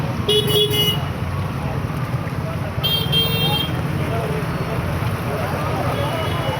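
Traffic on a national highway market road in Silchar, a continuous road rumble with two short car horn toots near the start and middle, while someone talks over it.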